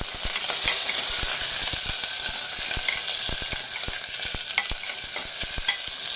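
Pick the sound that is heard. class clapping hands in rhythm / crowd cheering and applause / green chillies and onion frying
green chillies and onion frying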